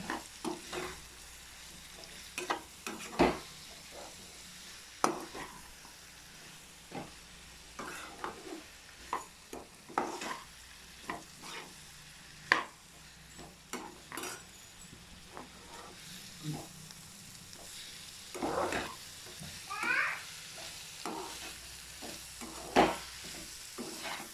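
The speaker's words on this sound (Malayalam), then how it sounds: "നന്നായിട്ടൊന്ന് ഇളക്കി വെക്കാം. എല്ലാം കൂടെ ഒന്ന് മിക്സ് ആവട്ടെ." Ivy gourd stir-fry being stirred in a frying pan, with repeated scraping strokes of the spoon over a steady close sizzle, no voices.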